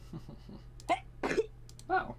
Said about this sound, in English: that was a sneeze and a cough